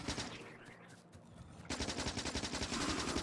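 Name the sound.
shotgun firing in the video game Factorio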